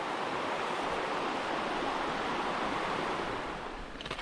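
Atlantic Ocean surf breaking on the rocky Cutler Coast of Maine, a steady, loud wash of broadband noise that fills the whole span and eases slightly near the end, with no talk.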